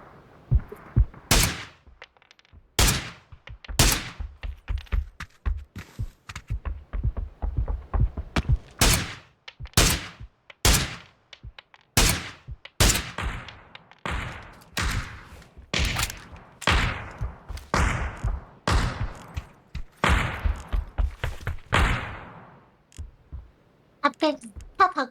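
Gunfire in PUBG aimed at a car's tires, a long series of sharp, loud single shots at irregular intervals, some in quick pairs or bursts, with softer thumps between them and players talking over the shooting.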